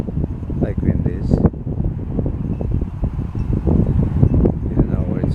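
A homemade wind generator runs with a steady, rushing whir much like wind, holding at an even level throughout while a person talks over it.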